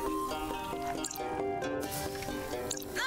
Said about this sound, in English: it creates a slime waterfall periodically, and you have to avoid that